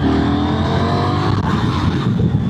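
Engine of a 2026 KTM 990 Duke R motorcycle pulling hard in fourth gear on the road, a loud close continuous roar with steady rising revs and wind noise, no talk.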